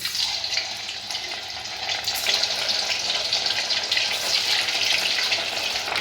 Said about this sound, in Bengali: তাহলে এবার কোপ্তাগুলো একটা একটা করে ছেড়ে দেবো।